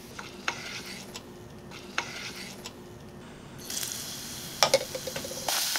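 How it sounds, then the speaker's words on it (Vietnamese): Minced shallots and garlic fry in about a tablespoon of rendered fat left in a pot, with soft stirring taps at first, then a louder, steady sizzling hiss and scraping later on. "Sau đó mình cho vào nửa muỗng canh hành tỏi, phi lên cho thơm."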